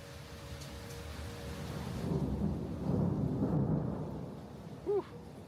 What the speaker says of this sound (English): There's the thunder showers.